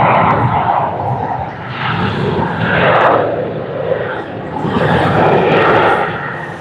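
Jetstar Boeing 787-8 Dreamliner taxiing at Sydney Airport, a loud broad engine roar that swells and eases in waves at fairly close range, with no voices over it.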